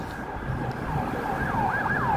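An emergency vehicle siren wails on a Chicago downtown street, rising and falling in sweeping cycles that grow more distinct over a steady wash of city traffic noise.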